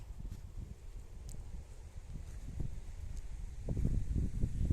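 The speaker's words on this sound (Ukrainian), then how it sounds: "Вітер так і не втихомирюється, холодно зробилося." Gusty wind buffets the microphone in low rumbling bursts that grow stronger toward the end, with faint rustling in the background.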